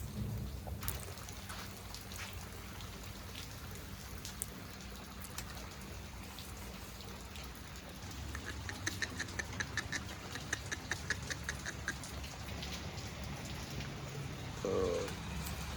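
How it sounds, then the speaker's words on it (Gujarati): Heavy rain falls steadily over a village near Junagadh, a dense continuous hiss of drops on surfaces filling the scene, with a few faint bird calls and a brief louder splash near the end. "હજી પણ વરસાદ ચાલુ છે"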